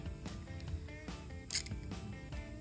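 A socket wrench ratchets in a short run of quiet clicks while fitting an OEM mud flap on a 2023 Tesla Model 3, close and fairly faint.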